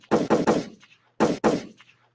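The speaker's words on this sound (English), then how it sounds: "Let me get some followed by some gunshots also." Two bursts of gunshot sound effects, each a rapid cluster of three sharp cracks with short decaying tails, separated by a brief pause, played loud and clear with no talking.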